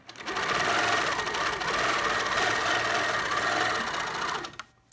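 A longarm quilting machine stitches steadily, its fast, even mechanical hum and rapid needle chatter running for several seconds before stopping abruptly.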